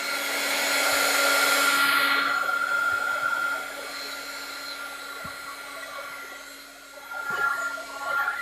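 A heat gun blows steadily on craft paint, a loud continuous whooshing hum that eases off partway through and then drops to a lower level, with small clicks and no talk.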